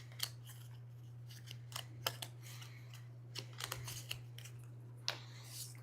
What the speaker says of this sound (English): shuffle these up and draw 2 new ones